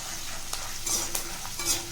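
Dried Byadgi chillies frying in a pan while being stirred, a soft steady sizzle broken by scraping strokes of a spoon, fairly close and moderately quiet.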